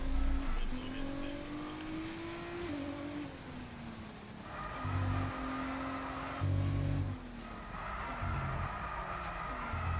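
A Formula 1 race car in the F1 22 video game accelerates through its gears, each engine whine rising and then dropping at the shifts, with bursts of louder roar partway through.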